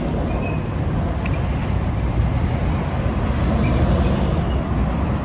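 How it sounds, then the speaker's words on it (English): Steady road traffic rumble near an airport, a continuous low broadband roar of passing vehicles heard at moderate distance, loud and unbroken with no distinct individual passes. "there's traffic in the background"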